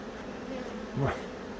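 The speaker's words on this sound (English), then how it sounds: "I think there's a bee inside of my bonnet, right up here." A honeybee buzzing inside a beekeeping bonnet right near the ear, a brief loud close buzz rising and falling over background hum during a swarm inspection.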